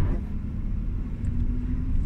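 A 2023 Tata Nexon with an automatic manual transmission cruises on a road, heard from inside as a steady, loud low rumble of engine and road noise with no talking.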